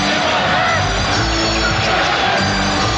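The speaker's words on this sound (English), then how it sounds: "The applause is for him." Arena crowd at Madison Square Garden applauding Herb Williams during an NBA Finals Game 5 between the Knicks and Spurs, a loud, dense, steady wash of cheering and clapping throughout with commentator talk underneath.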